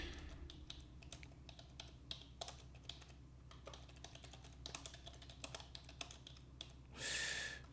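Fingers type in rapid irregular bursts on a computer keyboard with a sticking key, close and quiet, individual clicks distinct, ending in a brief louder rustle.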